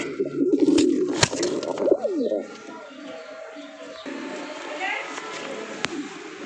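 A female racing pigeon coos among other pigeons, a few throaty calls spread out at moderate distance while a person talks and a few sharp clicks break through.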